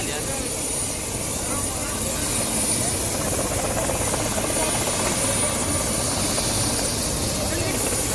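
A helicopter flies a girl to her village in India, its rotor chopping and engine roaring loudly and without pause, with a voice talking over it.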